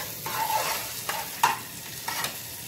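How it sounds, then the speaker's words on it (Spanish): Onion and pepper fry in a pot while being stirred, a steady close sizzle broken by a few distinct scraping knocks of the spoon, with no talking. "vamos a freír la cebolla y el pimiento. Entonces procedemos a moverla un poco"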